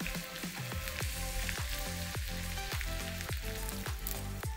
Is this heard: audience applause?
no